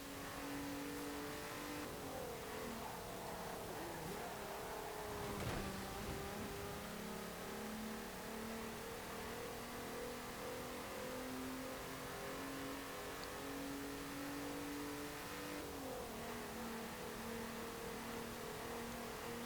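A 1998 Volkswagen Golf GTI VR6 engine in Forza Horizon 4 revs steadily and loud, its pitch rising and falling in smooth sweeps, with a sharp throttle blip near the middle and a brief dip toward the end.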